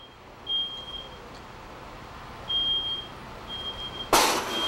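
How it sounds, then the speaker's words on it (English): Smoke detector sounding in a house during a live burn fire demonstration, thin high beeps in short bursts, clear over low background rumble, followed by a sudden loud hiss at the end. "Smoke detector activation"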